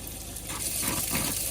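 Water runs steadily from a tap while a caravan's Alde heating system is being filled, a continuous hiss with small fluctuations, heard up close and alone.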